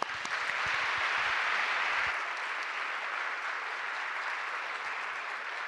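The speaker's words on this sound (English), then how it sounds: "Please join me in giving Emma and Henry a huge round of applause." An audience at an author presentation for Emma and Henry gives sustained, dense applause that holds steady throughout and thins only slightly near the end, with no voices over it.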